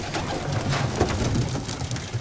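Young pigeons coo softly in low, rolling murmurs amid a rustling, noisy background, close by and continuous.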